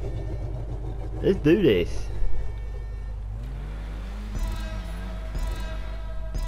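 A Rusty Rebel off-road truck fitted with a bull bar idles in GTA 5 with a steady low engine drone and occasional faint mechanical noise. Someone talks briefly over the engine near the start.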